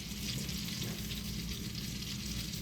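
Onions frying in a pan for a burger, a dense steady sizzle with crackling spits and occasional stirring, close and continuous, no voices.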